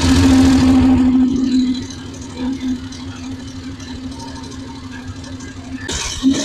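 A Voge DSX 900 or CF Moto 800 motorcycle engine starts up and idles nearby after an oil change with 20W-50 oil, a steady low drone holding throughout.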